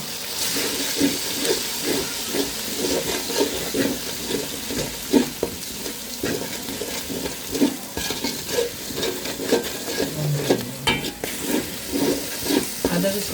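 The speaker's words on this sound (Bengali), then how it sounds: "বাদাম বাটাটা আমি তেলে একটু ভেজে নিছি কাঁচা গন্ধটা যাওয়ার জন্য" Nut paste frying in oil for chicken biryani, a steady low sizzle with rhythmic stirring scrapes repeating about once a second, close and moderately loud, no speech.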